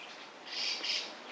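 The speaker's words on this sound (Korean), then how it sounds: "새들이 말을 해요." Birds chirp and call outdoors in a bamboo grove, a soft chorus of high twittering that swells in the middle and then eases back, steady and moderately near with no talking.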